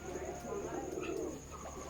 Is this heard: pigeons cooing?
yes